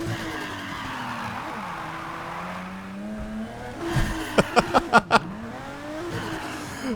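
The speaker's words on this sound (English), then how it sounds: "Now it's straight up drifting" A modded Nissan GT-R with extra camber drifts in Need for Speed, its engine note rising and falling under a continuous tire skid, then a quick run of sharp, rhythmic revving bursts before it settles back into a slide.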